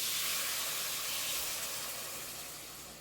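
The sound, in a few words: pouring boiling water into pot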